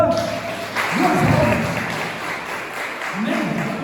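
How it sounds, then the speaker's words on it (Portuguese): Church congregation applauding during a worship service, a steady wash of clapping with voices and background sound mixed in, moderately loud throughout. "Você pode aplaudir o Senhor?"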